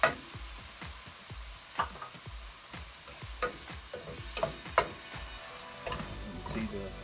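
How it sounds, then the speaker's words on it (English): A beef pan being deglazed with wine while braising short ribs. A soft, steady sizzle runs beneath repeated scraping and stirring strokes, with irregular clicks and taps of a utensil against the pan, fairly quiet and close. "you'll want to deglaze the bottom of the pan again with more wine"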